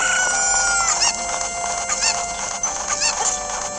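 Chickens clucking in Zelda: Ocarina of Time 3DS, a busy flock of game hens with repeated squawks and clucks over steady game background sound, fairly loud and continuous with no talking.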